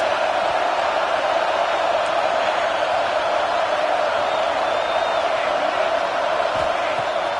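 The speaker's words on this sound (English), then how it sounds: "Listen to this crowd just shaking the girders of this place" A large crowd at a Penn State American football game roars continuously in a dense, steady wash of cheering and shouting that fills the whole stadium without letup.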